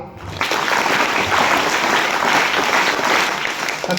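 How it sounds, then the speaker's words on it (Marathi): A school audience at a Marathi gathering breaks into applause: dense, steady clapping that starts sharply, stays full and loud throughout, and tapers slightly at the end, with no clear voices on top. "स्वतःसाठी टाळ्या वाजवा"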